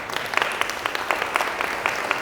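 A church audience claps steadily, many hands making a dense patter of claps that fills the room for a couple of seconds.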